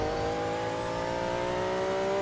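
A drag car's engine in the Need for Speed racing game revs with a steady, climbing tone, loud and continuous, a rising whine building as it accelerates with no talking.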